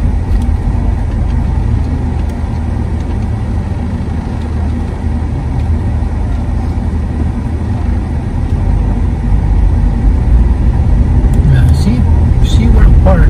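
Traffic on Seaward Park Avenue South, a continuous low rumble of cars and heavier engines nearby that swells toward the end, with talk over it.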